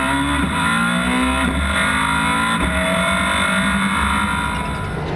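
A Citroen DS3 rallycross car at Pembrey holds its engine on the rev limiter, a loud, steady, buzzing drone with rapid limiter stutters running continuously close by.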